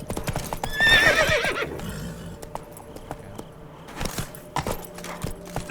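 Roach, the horse in The Witcher 3, whinnies loudly near the start, then hooves clip-clop in an uneven trotting rhythm with occasional jingling tack, close and clear with no talk.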